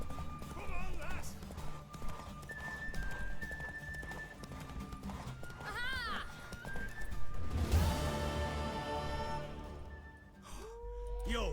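Hooves of a mare galloping in the video game Witcher 3 clip-clop steadily at a fast rhythm, with neighs and whinnies, under game music and character speech.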